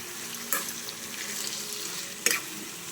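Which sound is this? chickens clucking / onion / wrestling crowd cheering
onion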